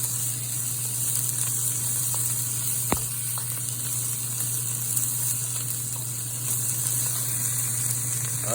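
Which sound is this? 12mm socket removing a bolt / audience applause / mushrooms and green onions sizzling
mushrooms and green onions sizzling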